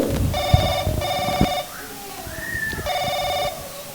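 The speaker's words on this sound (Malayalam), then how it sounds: "ഫോൺ അടിക്കുന്നു" A telephone rings twice in bright electronic bursts, close and loud, with a pause between rings and a voice briefly heard in the gap.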